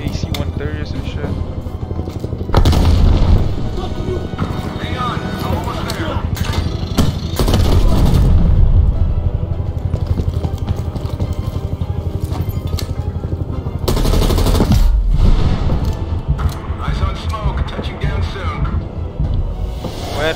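Heavy AC-130 gunship fire in Call of Duty: Black Ops Cold War shows up as repeated booming cannon bursts and rattling gunfire over engine drone across a loud battlefield, with a player talking over much of it.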